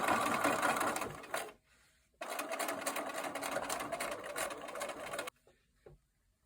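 A sewing machine stitches fabric in two steady, close bursts, running for about a second and a half, pausing briefly, then running for about three more seconds before stopping.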